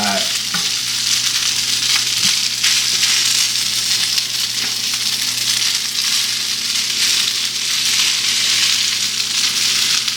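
Shrimp fried rice frying hard in a pan, a loud, dense, continuous sizzle with crackling bursts and occasional stirring scrapes, steady throughout with no voices.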